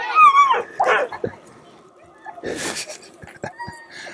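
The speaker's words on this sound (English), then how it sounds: "I got some dogs getting angry." Excited sled dogs yip, whimper and bark in short bursts close by, with a voice talking between the outbursts.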